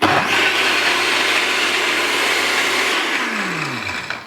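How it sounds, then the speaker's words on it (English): A blender loudly blitzes a pina colada of rum, pineapple juice and cream coconut in a steady, roaring whir that holds for several seconds, then winds down as the motor slows and stops. "So now we blitz it for about a minute."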